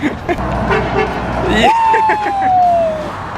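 A car horn honks at a pedestrian walking along a roadside in a car-dependent city, a single sustained toot that sounds loud and close over passing traffic and brief voices.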